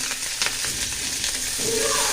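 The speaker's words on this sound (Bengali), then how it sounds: "ভাজি করবো, এই জন্য কিন্তু আমি মরিচটা, শুকনো মরিচটা দিলাম আগে" Dried chilies frying in a hot pan of oil, a close crackling sizzle with scattered pops and a brighter burst of hissing near the end, no voices.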